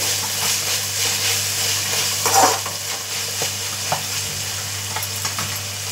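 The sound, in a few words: stirring fish curry masala with tomato puree in pan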